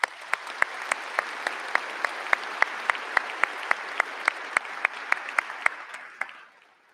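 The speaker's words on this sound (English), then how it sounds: "Please join me in giving these individuals a round of applause" A high school graduation crowd applauds, with a dense wash of clapping punctuated by a steady run of sharp, loud claps near the microphone at roughly three per second, before it dies away over the final second.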